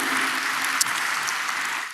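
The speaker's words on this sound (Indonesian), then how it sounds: "berikan tepuk tangan kita untuk Tuhan kita" Church congregation applauding during a sermon: dense, steady clapping from many people in a reverberant sanctuary, continuous and fairly loud for a couple of seconds.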